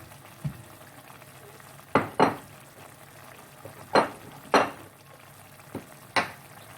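Spiced shrimp and vegetables stirred in a pan with chili flakes and black pepper, giving several sharp scraping clacks of a utensil against the pan over a faint sizzle, spaced irregularly and heard alone.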